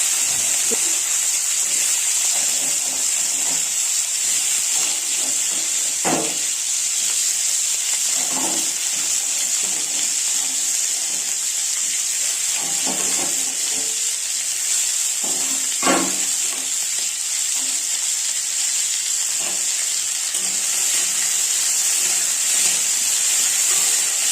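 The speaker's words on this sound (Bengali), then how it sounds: "যে সবজিগুলো কেটে রেখেছিলাম এই তেলের মধ্যে দিয়ে নাড়িয়ে চাড়িয়ে একটুক্ষণ ঢাকা রাখবো" Chopped vegetables fry in hot oil seasoned with panch phoron, giving off a steady bright sizzle, with a few louder clatters of stirring. No voices are heard.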